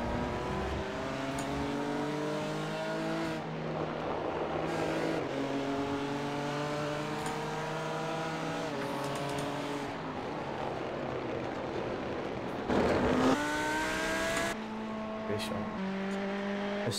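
Race cars sweep past in an iRacing endurance race at Road America, engines droning with rising and falling tones as they pass under steady voice commentary.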